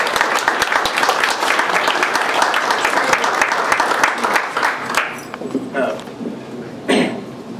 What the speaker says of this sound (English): Give a warm round of applause for Joe.